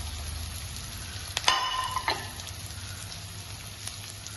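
Cashew nuts drop into a hot pan while making upma, bringing a close, steady sizzle with a short burst of sharper crackling partway through before it settles back to an even frying hiss.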